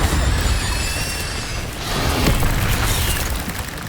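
The Incendio fire spell is cast in Hogwarts Legacy, a burst of roaring flame with a booming whoosh and crackle that swells, fades slightly, then flares again, with no voices.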